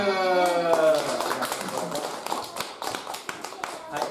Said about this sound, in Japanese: じゃあ皆さん拍手。